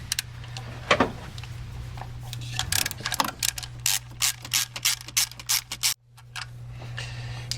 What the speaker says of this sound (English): And we'll take our 10mm, take our top bolt out.